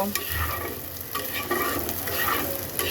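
Shrimp and bitter gourd fried with green chilies are stirred in a pan, giving a steady close sizzle with scraping spatula strokes throughout.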